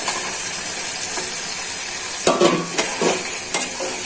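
Garlic sizzles in a pan with dried chepa shutki fish as it is fried for bharta, a steady hiss broken by a few sharp stirring scrapes and clinks.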